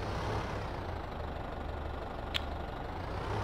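A small Ford tractor runs steadily with a trailer hitched on the back, ready for a canola harvest; a constant low engine rumble with no talk.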